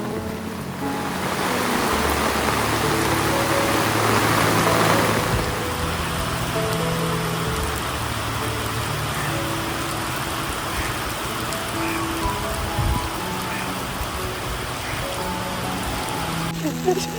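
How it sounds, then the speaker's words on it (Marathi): Dense, constant downpour hissing throughout, with a person speaking over the heavy rain. "मुसळधार पाऊस पडतोय"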